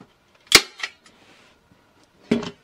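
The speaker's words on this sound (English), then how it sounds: "I'm just going to fold in, staple that down." Staple gun driving staples through fabric into a wooden bench during upholstery work: two sharp, close snaps a couple of seconds apart, with a smaller click after the first.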